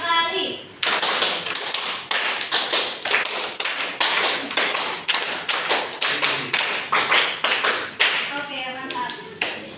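A classroom of students claps hands in unison, sharp loud claps in a steady rhythmic series of five-beat patterns that fill the space, with brief gaps between groups.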